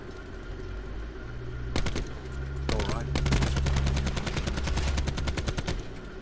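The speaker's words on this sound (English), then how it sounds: "This gun has so much kick to it, it's not even funny" In Call of Duty Black Ops 4, a short automatic burst rings out, then a longer rapid stream of machine-gun fire with evenly spaced shots, loud and close over a low game rumble.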